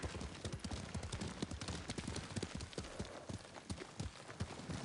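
Horse hooves clop in a quick, even galloping rhythm in the video game Ghost of Tsushima, close and distinct throughout the short stretch, with no speech.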